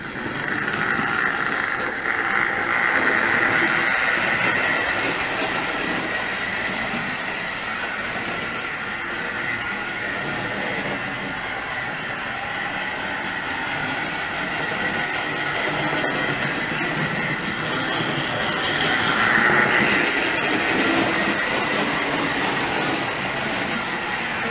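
A Tri-ang model railway train runs steadily around a layout, giving a continuous close rumble and whirr with faint clicking of the wheels over track joints and slight swells in loudness, with no talking.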